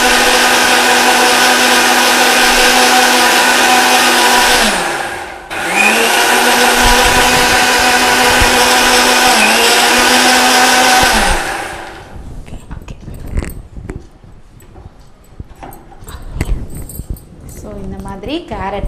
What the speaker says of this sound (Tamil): ஸோ இன்னும் வந்துட்டு கொஞ்சம் மையாக அரைக்கணும்.